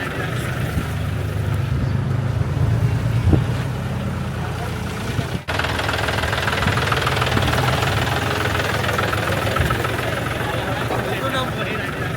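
A tractor's diesel engine runs steadily with a knocking, chugging rumble throughout, broken by one brief dropout midway; voices are faintly mixed in. The tractor is travelling to a village to carry a Ganesh idol.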